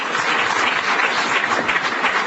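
An audience at a lecture bursts into loud, sustained applause, with dense, even clapping filling the room throughout.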